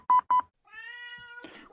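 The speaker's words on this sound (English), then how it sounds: "Oh good, the cat's here." A house cat meows, first two short sharp chirps, then a longer drawn-out tonal meow ending in a rougher breathy note, close and clear against silence.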